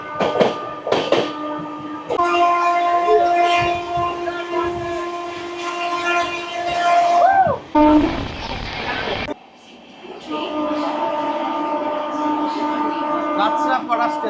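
The Sairang–Kolkata Express, an inaugural special, runs through Ranaghat station without stopping. It is heard from on board, with a steady rumble and rattle, sustained horn blasts, a brief loud whoosh of passing air, and voices in the background.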